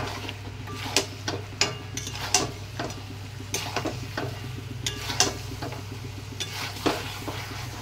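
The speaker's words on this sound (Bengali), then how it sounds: "আর এরপরে দিয়ে দিলাম ফুলকপিটা, দিয়ে ভালো করে" Cauliflower is stir-fried in a pan for a roast, with rhythmic spatula scrapes and knocks striking every second or so over a constant frying sizzle, close and fairly loud.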